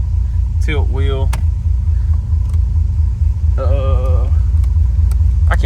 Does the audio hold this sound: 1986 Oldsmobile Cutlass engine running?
yes